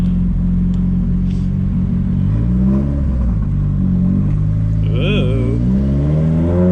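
A drift car's engine rumbles and revs up and down while driving, a low, close, steady drone with climbing pitch sweeps, and someone talks briefly over it.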